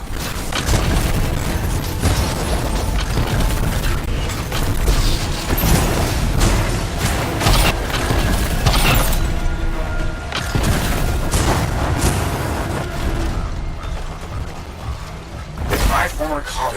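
Crystals bursting in the video game Anthem, a dense, continuous stream of loud cracks, pops and mechanical clanks, with voices speaking over the chaos.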